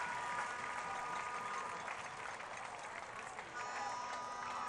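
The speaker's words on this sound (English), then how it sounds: "gets some appreciation from the home crowd" A home crowd at a Birmingham Legion FC soccer match against Atlanta United 2 applauds steadily, a broad wash of clapping and crowd noise that holds level throughout.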